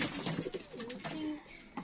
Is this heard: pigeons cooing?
yes